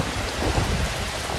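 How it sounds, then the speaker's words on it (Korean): Heavy pouring rain lashes down during a typhoon in a flooded Korean city, a loud, dense and continuous roar of downpour with no voices. "세차게 퍼붓는 빗줄기 소리도 생생하게 전해집니다"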